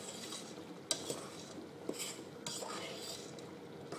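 Spoon stirring sugar, almonds, cinnamon and water simmering in a pot on an induction hob, a quiet scraping and rustle over bubbling hiss, with a few sharper clinks.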